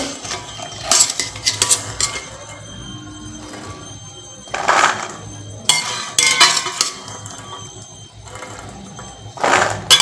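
A ladle stirs chana in a metal pot, scraping and clanking against the sides in irregular bursts of sharp metallic clinks, close and fairly loud over a faint kitchen background.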